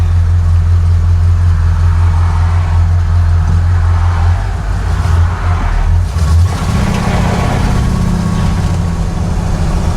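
Big block Buick GS V8 idles close by at about 800 RPM, a deep steady rumble with a slight lope that shifts in tone after six seconds.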